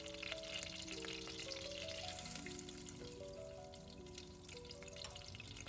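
Butter melts into vegetable oil in a saucepan, giving a quiet, continuous sizzle and fizz with faint crackles, heard alone under soft background music.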